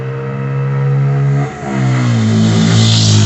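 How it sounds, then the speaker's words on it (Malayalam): Bajaj Pulsar N160 motorcycle with underbelly exhaust revs hard and loud up close, engine note dipping briefly then climbing again to a sustained high rev. "segment one of the best sounding exhaust ആണ്"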